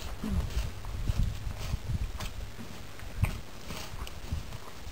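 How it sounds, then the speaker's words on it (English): Camels carrying riders walk along in Jordan, their soft footfalls thudding in an uneven plodding rhythm close by over a steady outdoor background. "and then me, Michelle, and Leanne riding on camels ourselves."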